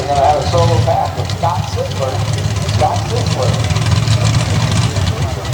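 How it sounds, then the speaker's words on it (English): A Chevy S10 pro stock drag car at a 2021 Outlaw Pro Stocks race at Transfer idles before staging. Its steady, low engine rumble continues under a loud announcer talking over the track. "a little Chevy S10 with the big bad Chevy horsepower in the front will go ahead and stage"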